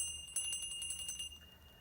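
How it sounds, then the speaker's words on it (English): A small metal bell used in incantation spells is shaken close by, giving a rapid run of bright jingling strikes that ring on and then fade out, with no talking. "Also, this bell."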